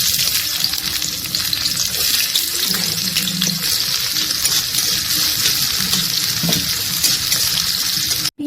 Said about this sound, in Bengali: মাছ ভাজার পর যে তেলটা বাড়তা হয়েছে, তাতে আরেকটু পরিমাণ তেল দিয়ে পেঁয়াজগুলোকে ভাজতে দিয়ে দেব।